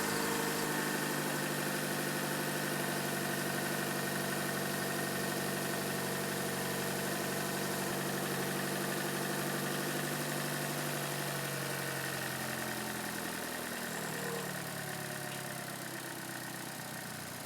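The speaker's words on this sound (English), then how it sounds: "Start the vehicle, then pull the relay and wait for the vehicle to stall out." Car engine left idling after the fuel pump relay is pulled: a steady mid-pitched hum that holds for a long stretch, then slowly drops and fades as the engine runs out of fuel and begins to stall.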